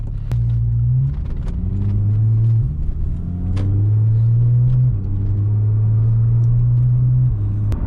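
A Porsche 911 Targa 4 GTS starts up with its sport exhaust engaged, then settles into a loud, steady idle rumble with a few brief revs close by, with no talking.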